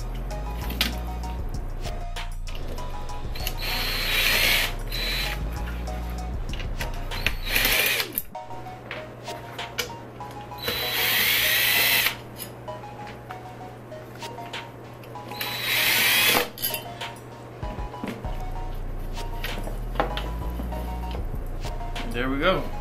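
Power drill backing Phillips head screws out of a speaker casing in a 1992-96 Honda Prelude, several loud whirring bursts close up, with a low steady hum and ticking between runs.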